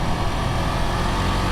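A 2022 KTM 690 SMC R supermoto motorcycle runs at an easy, unhurried pace, its engine giving a steady, close, even drone with no revving for a brief moment.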